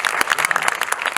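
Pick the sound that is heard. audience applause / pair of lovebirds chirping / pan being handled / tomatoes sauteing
audience applause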